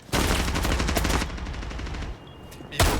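Rapid automatic gunfire in the tactical shooter Rainbow Six Siege, dense bursts of loud shots for about two seconds, a short lull, then another sharp burst at the end.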